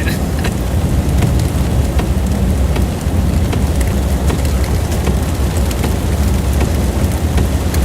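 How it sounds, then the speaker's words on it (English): Heavy rain pours steadily during an overnight severe thunderstorm in West Texas, a loud, dense hiss close by with scattered sharp drop impacts and no voices. "I'm gonna get out of the rain first."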